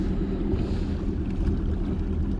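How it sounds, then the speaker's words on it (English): A fishing boat's outboard motor idles on a lake in summer, a steady low rumble close by with faint wind and water noise and no voices. "I'm just idling around out here and looking for these places"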